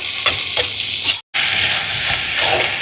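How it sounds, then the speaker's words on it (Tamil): Onions, green chilies and curry leaves sizzle steadily while being sautéed and stirred over a wood stove, a loud, continuous frying hiss with a few scraping stirs and a brief cut of silence partway through. "இப்போ பாருங்க வெங்காயம் எல்லாம் நல்லா வதங்குது"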